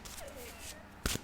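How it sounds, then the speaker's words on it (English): Tarot cards shuffled by hand: soft riffling bursts and a sharper card snap near the end, brief and close, with a faint voice in the background. "I will start shuffling as I talk"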